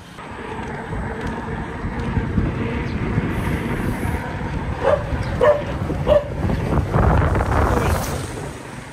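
A dog barks in short bursts while chasing a road bike on an unpaved rural road near fishponds in Pampanga, over steady wind and riding rumble, several sharp barks clustering near the middle.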